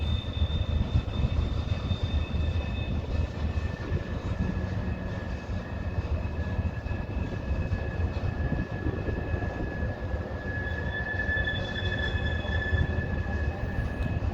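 A train rolls slowly through the Tehachapi Loop, a steady distant rumble of wheels and wagons with faint sustained horn-like tones drifting in and out, no talking.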